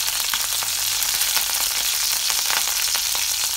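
Oil sizzles and crackles steadily in a thick-bottomed pan while preparing chicken curry, a continuous close frying hiss with scattered pops and no talking.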